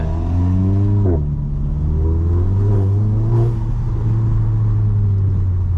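A VW Golf GTI MK7.5 engine revs up loud and close, with a steady droning rumble that rises in pitch and eases off, plus a turbo flutter, heard from inside the car with no talking.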